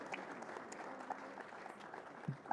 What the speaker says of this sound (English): please will you join me in giving our moderator and our panelists a big round of applause.